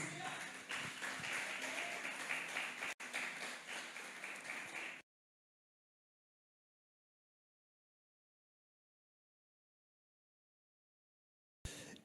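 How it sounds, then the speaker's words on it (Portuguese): A church congregation applauding together, a dense and steady wash of clapping for about five seconds with a brief break partway through, then silence for several seconds before a short burst of sound returns at the very end. "pode aplaudir o nome de Jesus"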